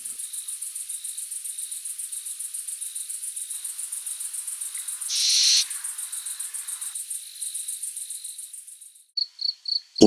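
Owls at night perched on electric poles, a repeated rhythmic call pulsing steadily under a bed of chirping crickets, with one louder burst partway through and a few sharper calls at the end.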